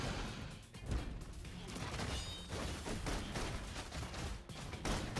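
Rapid gunfire from the video game Love and Deepspace, a dense, continuous barrage of sharp crackling shots and impacts that stays loud throughout with no pauses.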